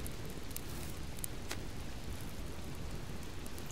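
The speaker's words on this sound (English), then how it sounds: "And it's going to rain some more." Rain falls steadily in the survival video game Subsistence, a constant hissing wash with a few brighter drop hits, fairly faint and with no talking.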